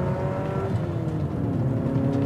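A Porsche 944 Turbo engine with 300 horsepower climbs hard under turbo boost past 4,000 rpm, a close, continuous rev with its pitch rising steadily, no talking.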